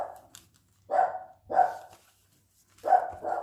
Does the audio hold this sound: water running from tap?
no